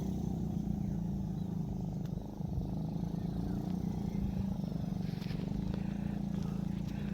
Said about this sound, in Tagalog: ahon nila yung motor oh